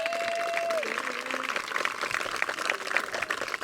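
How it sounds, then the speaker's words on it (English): An audience at a waterfront restoration dedication ceremony at a YMCA camp gives a round of applause, dense and moderately loud, with a held tone and crowd voices in the mix. "Round of applause all the way around."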